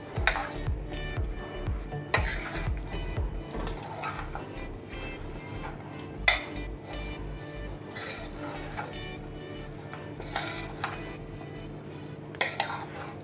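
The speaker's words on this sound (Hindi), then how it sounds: "इन सबको पहले हम मिक्स कर देंगे, मिला देंगे अच्छी तरह से" Chicken pakora batter of turmeric and coriander powder being stirred together in a bowl, with steady scraping, clinking of a spoon against metal and occasional sharper knocks, close and fairly quiet, no talking.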